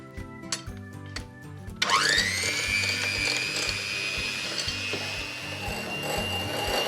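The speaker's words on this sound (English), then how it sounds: "Whisk on." After a few quiet knocks, an electric whisk starts up and runs steadily, beating egg yolks with salt, white pepper and Dijon mustard for mayonnaise, a loud whirring whine with a rising pitch at the start.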